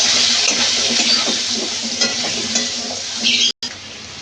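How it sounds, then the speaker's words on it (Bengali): Cut potatoes stir-fried in hot oil with turmeric and salt: a steady, close sizzle with scraping stirs throughout and a brief dropout near the end, no voices. "আলুটা ভালো করে ভেজে নেব।"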